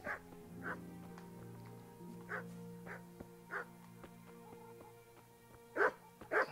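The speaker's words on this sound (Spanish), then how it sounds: "dos perros, nada más y nada menos que dos perros" Two dogs barking in the medieval video game Kingdom Come: Deliverance, with repeated short barks and yips at irregular intervals, fairly close, over faint game ambience and music.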